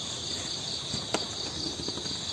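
A cricket chirps steadily in a high, continuous trill, fairly prominent over quiet background with a brief click partway through and no talk.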